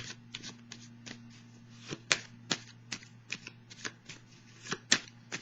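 Tarot cards are shuffled by hand, a series of close crisp riffling flicks and snaps at an irregular pace over a steady low background hum.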